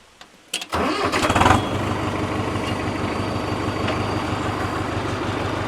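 A tractor engine cranks and fires up, then settles into a steady, loud diesel idle that continues to the end, with no talk over it.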